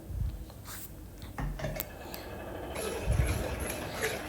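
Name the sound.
stirring green gram curry with the ground coconut paste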